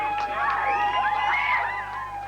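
Crowd of fans at a well-attended rugby league training session, a sustained, blended roar of cheering and whoops with rising and falling tones, loud and steady throughout.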